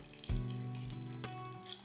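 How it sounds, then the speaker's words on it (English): A sirloin steak sizzles steadily in a hot pan with vegetable oil, a continuous close frying hiss that starts suddenly as the meat goes down and holds at an even level. "And you can hear the sizzle, so our pan's at a good heat."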